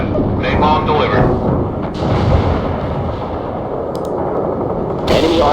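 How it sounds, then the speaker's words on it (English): Napalm strike in the game World in Conflict, a loud, sustained rumbling roar of fire and blasts with crackling bursts, beneath radio-style voice chatter. "Napalm delivered."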